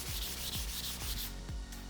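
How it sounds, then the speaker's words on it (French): Rhythmic sanding strokes with bodywork sandpaper on saw blade edges rasp back and forth at a steady pace, about four abrasive passes close up, with no talking. "on va se servir du papier à poncer de carrosserie"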